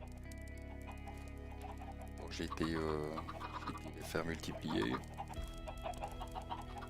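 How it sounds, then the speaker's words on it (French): Chickens in a video game cluck and squawk in short bursts over a steady electronic hum, with a person talking partway through. "On a quelques poulets."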